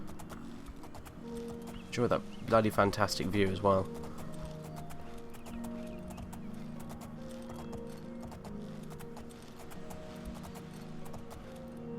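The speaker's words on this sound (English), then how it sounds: "I'll enjoy the first person horse riding" Horse hooves clip-clop in a quick burst during first-person horse riding in the video game Oblivion, loud for a couple of seconds, then someone talks over quiet ambient sound.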